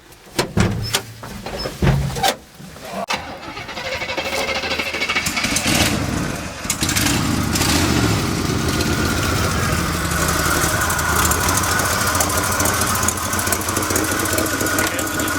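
A 1970 Chevrolet C10 Sierra Grande pickup engine runs continuously, loud and close, after a few thumps and a door-like clunk at the start, with a steady rumbling drone throughout.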